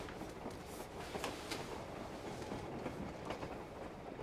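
A Victorian-era steam train running on a railway through a rocky cutting, a continuous rolling clatter of wheels on rails at moderate distance, steady and unbroken, with faint rhythmic clicks throughout.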